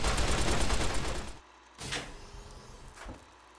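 A loud burst of rapid gunfire in Fallout New Vegas cuts off abruptly, followed by two separate nearer single shots with quiet gaps between them.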